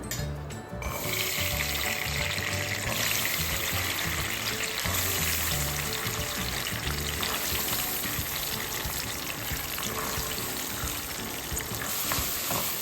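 Fresh green peas tipped into potatoes frying in oil, a loud, dense sizzle that erupts and then crackles on steadily with scraping stir sounds throughout, close and continuous.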